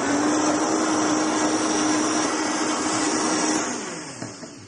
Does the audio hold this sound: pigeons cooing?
no